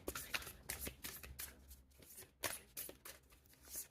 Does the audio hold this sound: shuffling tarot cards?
yes